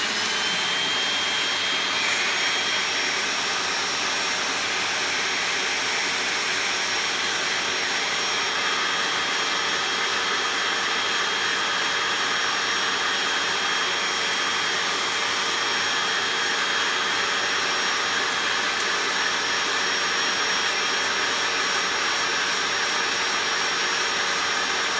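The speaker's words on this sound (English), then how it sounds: "So we shall tackle it with our Bissell SpotClean." A Bissell SpotClean portable carpet cleaner runs steadily on an old pet urine stain in a carpet, giving a continuous loud motor whine and suction roar with a faint high tone, unbroken throughout with no talking.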